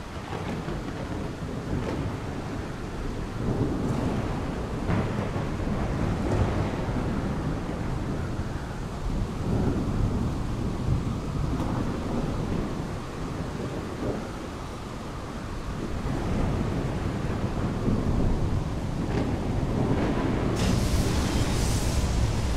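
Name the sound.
thunderstorm in the video game The Solus Project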